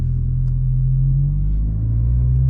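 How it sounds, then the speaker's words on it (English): A modified car with an enhanced intake drives along, its engine giving a steady, loud low rumble and drone close by, uninterrupted and without talk. "definitely can hear that intake a lot more"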